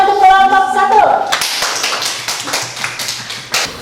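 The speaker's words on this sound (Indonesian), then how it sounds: "Tepuk tangan untuk kelompok 1." A classroom of students claps for a group that has just presented, a burst of scattered hand claps following a brief spoken line at the start, then thinning into lighter, uneven taps with voices murmuring underneath.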